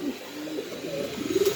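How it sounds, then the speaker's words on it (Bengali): A tagged pigeon of a fancy breed coos softly at close range, a low, throaty rolling call that swells toward the end. Faint background hiss, no voices. "এই ট্যাগের কবুতরটা আপনি চেয়েছিলেন"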